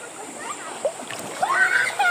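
Water splashes intermittently as people wade across a shallow river, sloshing steps with brief louder surges over a steady outdoor background.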